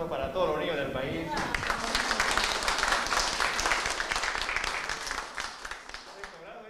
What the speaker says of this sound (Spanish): un aplauso para todos los niños del país